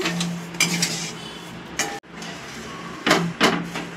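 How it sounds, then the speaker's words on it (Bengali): Raw mango murabba being stirred in a pot makes intermittent clinks and scrapes of a utensil against the metal, with a sharp knock partway through and a couple of louder clatters near the end. "এটাকে আমাকে থেকে থেকে নাড়তে হবে।"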